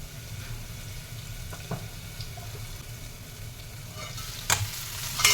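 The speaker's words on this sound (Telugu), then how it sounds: "చూసారు కదా ముక్కలు చక్కగా వేగుతున్నాయి" Carrot pieces frying in oil in a pan for a carrot chutney, a steady close sizzle with stirring scrapes and a few louder clinks and pops near the end.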